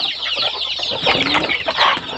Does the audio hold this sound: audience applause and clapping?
no